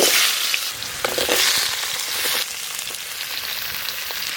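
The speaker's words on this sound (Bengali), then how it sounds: "ওই মাছ ভাজার তেলে আমি আলু আর পটল একটু ভেজে নেব।" Potato and pointed gourd sizzle steadily in hot fish-frying oil, a dense crackling hiss heard close up with occasional stirring scrapes and no voices.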